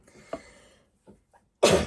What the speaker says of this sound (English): That's 2 videos now where I've sneezed on video